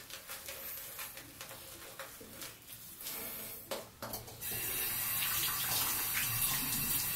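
Tap water runs onto a shaving brush while preparing soap lather for a wet shave. A faint trickle and rustle turns into a louder, steady gushing stream about halfway through, with no voices.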